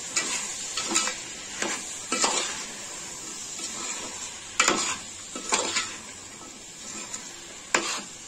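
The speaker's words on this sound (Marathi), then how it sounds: "आता आपण सर्व भाज्या मिक्स करून घेणार आहोत." Vegetables for a vegetable pulao, including finely chopped brinjal, stirred and mixed in a sizzling pan, with repeated scraping strokes of a spoon against the metal over a steady frying hiss; no voices.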